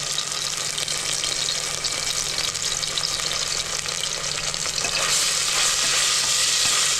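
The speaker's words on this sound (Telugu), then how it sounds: "అల్లం వెల్లుల్లి పేస్ట్ వేయండి." Ginger garlic paste fries in a hot pan for a goat head fry, a loud continuous close sizzle with stirring, steady throughout and brightening near the end, no voices.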